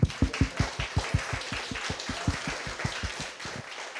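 A study audience claps at a trial results event, a steady run of distinct, fairly sharp hand claps a few people strong, moderately quiet and heard alone without talk.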